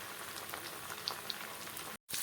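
Fish fries in oil in a pan, a quiet crackling, bubbling sizzle with small pops, heard close but faint, briefly cutting out near the end.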